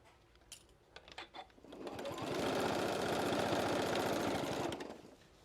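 A sewing machine stitching a quilted casserole cozy, preceded by a few faint clicks, then a steady, close mechanical whirring hum of rapid stitches for about three seconds before stopping.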